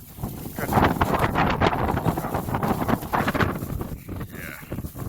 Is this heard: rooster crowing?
no